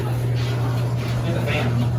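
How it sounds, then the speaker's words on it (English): Otis hydraulic glass elevator at Greenbrier Mall in Chesapeake, Virginia, its motor running with a steady low hum and a continuous broadband whir heard from inside the moving car. "Let's listen to that motor."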